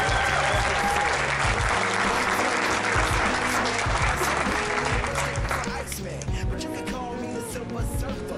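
A live crowd at a hip-hop awards event claps and cheers loudly and steadily, then the applause thins and fades slightly near the end while background music continues.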